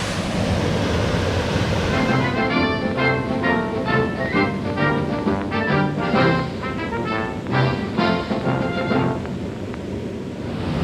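Jungle runoff stream pouring down from high ground into a main stream, a steady broadband rush of flowing water close by, continuous and loud with no speech.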